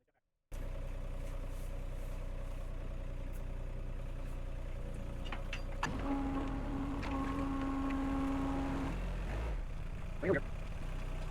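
A mini excavator engine runs at a steady idle-like drone throughout on an off-grid property, with a sustained tonal hum joining midway and a few clunks near the end, fairly close and with no talk.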